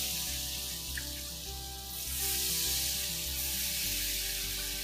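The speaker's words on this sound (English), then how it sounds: "We're then going to cover the shrimp in our tempura batter and lay them straight into the fryer." Tempura-battered shrimp frying in a deep fryer, a dense, steady hiss and crackle of bubbling oil that swells slightly louder partway through, close and continuous.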